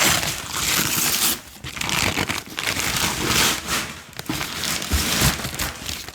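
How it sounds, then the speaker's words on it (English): Paper packaging is crinkled and ripped close up, with bursts of tearing and rustling separated by brief pauses. "does anyone else love the sound of like ripping paper and stuff?"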